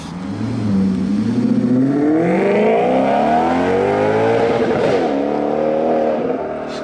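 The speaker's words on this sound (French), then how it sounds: "Boîte méca, hein, vous avez entendu le passage de vitesse?" A BMW M3 G80 with a manual gearbox revs hard and climbs in pitch, with brief dips where the gears shift, loud and continuous throughout.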